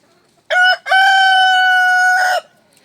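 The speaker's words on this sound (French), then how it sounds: "Si ça peut vous faire plaisir, un petit coup de chant du coq." A rooster crows loudly and close by in one long harmonic call, with a brief break near the start, alone against a quiet background.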